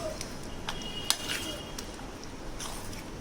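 A utensil clinks and scrapes against a bowl as melted white chocolate is stirred for brownies. Light, irregular ticks come up close, with one sharper clink, over a faint steady background.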